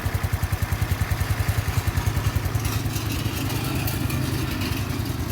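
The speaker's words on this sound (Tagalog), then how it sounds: "Yan, tahimik ang makina." A Motorstar Easy Ride 125 motorcycle engine idles steadily nearby with a rapid, even putter, loud and continuous, smoothing out slightly partway through.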